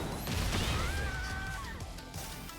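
A heavy smash impact lands in a Tekken 8 ranked fighting match, a Heat Smash hitting a character, with a dense crash and burst of game effects over a busy background of whooshes and tones.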